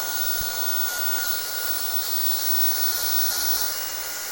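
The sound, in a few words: hair dryer on medium speed, high temperature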